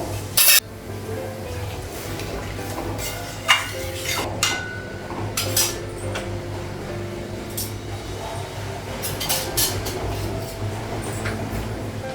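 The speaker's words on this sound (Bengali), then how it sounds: "কড়াই ছিল আরও কিছু বাসন ছিল সেগুলাম ধুলাম" A wok and other pots and dishes clatter and clink in a sink with running water, steady kitchen scrubbing sounds and occasional sharper metallic knocks throughout.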